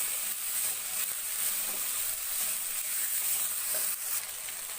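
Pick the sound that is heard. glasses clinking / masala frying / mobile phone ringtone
masala frying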